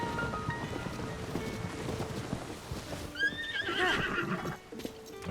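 A horse at a stable in the video game Tears of the Kingdom, with clip-clopping hooves and background ambience, then a clear whinny rising and trailing off near the middle, fairly close.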